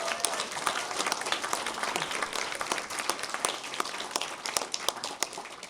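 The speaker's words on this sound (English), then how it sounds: "Please give yourselves a very well-deserved round of applause." An awards ceremony audience gives a round of applause, many sharp individual claps standing out within a lively, sustained clapping crowd at close to moderate distance, with no speech on top.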